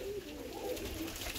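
Fancy pigeons coo softly in a crowded loft, a faint, low, continuous murmur of overlapping coos.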